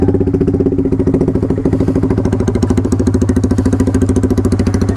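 A motorcycle engine runs steadily at idle close by, its regular low thumping pulses continuing without a break and no talk over it.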